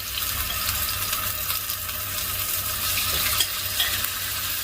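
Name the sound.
sautéing marinated chicken in olive oil in a frying pan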